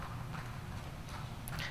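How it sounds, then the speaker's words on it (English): A horse trotting with a lame right front leg gives a run of faint, regular hoof clip-clops against a steady background rumble, with no voices. "This horse has an obvious head bob at the trot"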